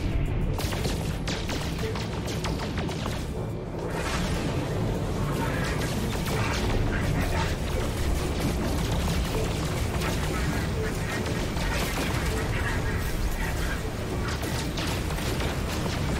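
Spaceship weapons fire in No Man's Sky, shooting at enemy ships: a dense, continuous barrage of rapid blasts and mechanical clatter, loud and steady throughout with a roaring engine bed underneath.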